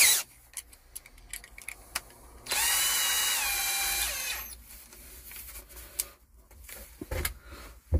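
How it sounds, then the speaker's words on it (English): A small electric drill fitted with a 3mm bit whirs loudly for about two seconds in a steady high-pitched burst, surrounded by quieter clicks and handling noises. "that is the 3mm bit attached into my drill"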